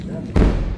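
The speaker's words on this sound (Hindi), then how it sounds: "और फिर दोबारा धमाका," A missile explosion during an Iranian strike on Haifa: a single loud, deep boom that hits abruptly after a moment of quieter background and lingers as a low rumble.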